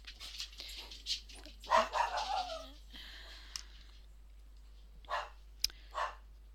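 An indoor dog barks in a few scattered, moderately distant bursts with quiet pauses between them, with faint background sounds and no talking over it.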